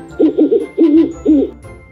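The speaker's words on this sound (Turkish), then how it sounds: "Bu bir baykuş." An owl hoots three times in quick succession, loud and close, each call a rounded tremulous note with short gaps between, no voices present.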